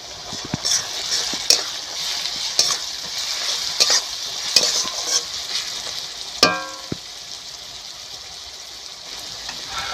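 Ground garlic paste hitting lightly browned onions in a pot of mutton curry with potatoes: a close, busy sizzle with bursts of stirring and a sharp spatter, settling into a quieter fry with no voices.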